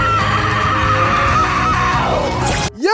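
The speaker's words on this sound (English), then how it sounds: "That woman's scream was a scream, as in the voice actress went crazy" A voice screams long and loud in an anime fight, a voice actress at full strain, the sustained shriek wavering then cutting off abruptly near the end.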